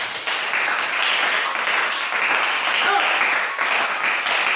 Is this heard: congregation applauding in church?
yes